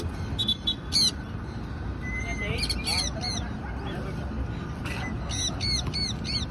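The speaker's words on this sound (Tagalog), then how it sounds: "Grabe naman yung mga ibon na yan." Free-flight pet birds squawk and honk in repeated sharp bursts outdoors, the calls coming in clusters over a steady background of wind and ambient noise.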